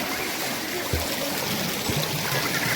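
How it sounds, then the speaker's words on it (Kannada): Water rushing between two rocks at a rural stream, a steady loud close gush with constant broadband splashing and faint low thumps. "ಈಚೀಚೆ ಎರಡು ಕೂಡ ಬಂಡೆಯ ಮಧ್ಯೆ ನೀರು ಬರುವುದು"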